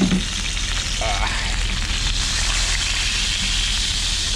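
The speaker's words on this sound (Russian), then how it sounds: "Жарится наш стейк." A steak frying in a hot pan gives a steady, dense sizzle and crackle at close range, continuous throughout with faint stirring noises and no talking.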